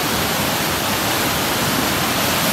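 Loud, steady roar of floodwater rushing over a dam during a typhoon flood on a farm, dense and continuous with no break for the whole moment.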